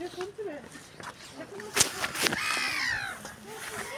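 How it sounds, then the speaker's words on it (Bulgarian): A flock of birds calls beside a bridge in England, harsh crow-like caws and chatter rising in bursts over outdoor ambience, with people talking nearby throughout. "Виждате ли колко птици има на едно място?"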